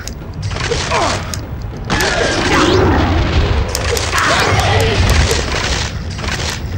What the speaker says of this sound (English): I think I'm gonna have to destroy those barrels